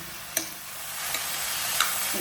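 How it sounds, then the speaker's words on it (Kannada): Carrots and mixed vegetables sautéing in a pan for vegetable lemon rice, a continuous close sizzle with a few brief scraping stirs of a utensil. "ಕ್ಯಾರೆಟ್ ಇಷ್ಟು ಹಾಕಿ ಸ್ವಲ್ಪ ಬಾಡಿಸಿ ಲೈಟಾಗಿ"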